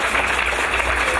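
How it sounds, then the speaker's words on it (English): A church congregation claps together, a dense, continuous wash of applause filling the brief moment with no pauses. "Shall we clap for Jesus and the sister?"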